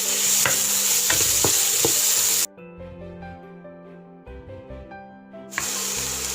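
Capsicum and onion are stirred in a pan on low flame for a chicken omelette pizza. A steady sizzle comes with scraping stirs, broken in the middle by a few seconds of tonal music before the frying returns.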